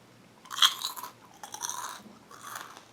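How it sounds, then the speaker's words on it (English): Bursts of crunching and chewing on Lays Classic potato chips, close and fairly quiet, with a loud first bite followed by two smaller rounds of munching and no talk. "The crunch factor here, you know, it's about a medium crunch level."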